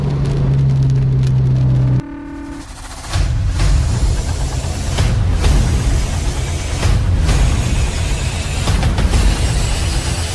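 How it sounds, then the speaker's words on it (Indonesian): Heavy rain pours down at night, a loud, dense, steady hiss over a low engine rumble, with a brief dip before it swells back to full strength. "kondisi hujan sangat deras untuk malam ini."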